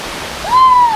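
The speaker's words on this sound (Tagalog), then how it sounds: "Kaya napakalinis po ng dumadaloy na tubig dito sa ilog." Rushing water from Amatong Falls and the river at Sitio Piit, Batangas City, forms a steady broadband hiss throughout, with a brief whistle-like tone rising over it near the end.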